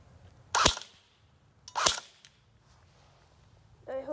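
An M4 pistol fires on semi-automatic outdoors, two sharp, well-spaced single shots, with a third sharp crack cut off at the end.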